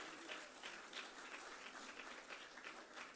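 Steady applause from a crowd of students at a university gathering in Bathinda, a continuous faint wash of many hands clapping at a distance, with no voices over it.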